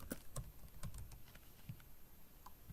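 Keys clatter on a computer keyboard as code is typed, a run of quick, uneven taps close to the mic with short pauses between bursts and no voices.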